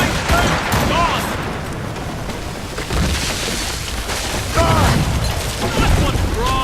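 Cannon fire from sailing warships in Assassin's Creed Rogue: repeated booming blasts and crackling volleys over a noisy sea-battle din, with voices calling out in between.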